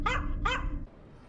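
A dog enemy in the video game Dark Souls 3 gives two sharp, close barks in quick succession, then the sound drops to quiet game ambience.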